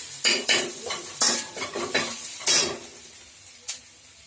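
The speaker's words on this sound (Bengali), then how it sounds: "একটু তেল দিয়ে এটাকে ভালো করে নাড়াতে থাকুন।" Spoon scraping and stirring thick masala with a little added oil in a pan for egg tarka, a run of close, irregular clinks and scrapes with light sizzle, fading to a few sparse taps.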